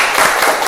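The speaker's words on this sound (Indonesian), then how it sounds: "Tepuk tangan untuk kita semuanya" Classroom applause from pupils clapping together at an Islamic religious education lesson, a brief dense burst of many hands, loud and close throughout.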